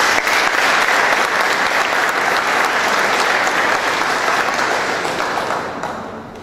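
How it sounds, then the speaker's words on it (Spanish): A crowd applauds at the opening ceremony of a national mining congress in Trujillo, loud sustained clapping that stays full for several seconds and then fades away. "Aplausos, por favor."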